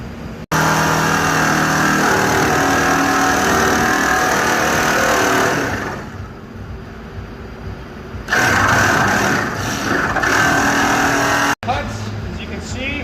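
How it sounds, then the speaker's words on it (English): A battery-powered jigsaw makes straight cuts through a Lexus IS300 car hood for a vent install, a loud continuous buzzing rattle close by that pauses briefly midway and then resumes. "now we're just gonna use battery powered jigsaw and just make those straight line cuts"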